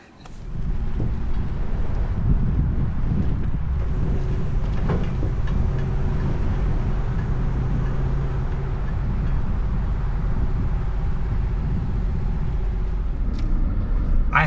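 A RAM 2500 Hemi pickup with an 8-speed transmission hauls a trailer up a 6% grade, giving a loud, steady engine drone and road rumble mixed with wind noise from inside the cab.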